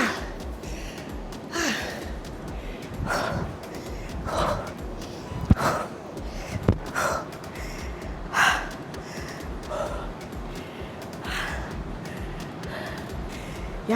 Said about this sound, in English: Y'all finna hear me breathing this whole goddamn video.